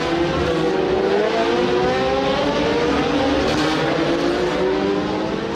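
A pack of historic 1966–1975 Formula 1 race cars with wings roars around the Monaco street circuit, a dense, continuous, loud engine howl with overlapping pitches as cars pass close by.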